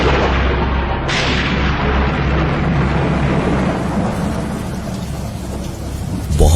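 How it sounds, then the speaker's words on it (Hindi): Heavy rain pours in a dense, loud roar while deep thunder rumbles through it, with a sharper crack near the start and a swell at the end. "बहुत ही तेज बारिश होने लगी और बादल गरजने लगे"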